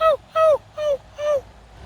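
A person imitates dog and puppy noises to call a lost pup, giving four short, high, whimpering yips in a steady rhythm, close and clear against a quiet outdoor background.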